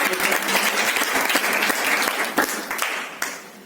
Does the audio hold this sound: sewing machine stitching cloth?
no